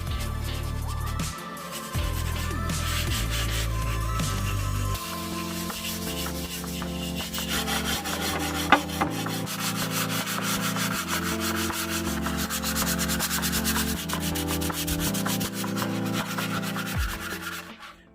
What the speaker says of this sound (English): Okay, so I have it sanded as much as I can do it now.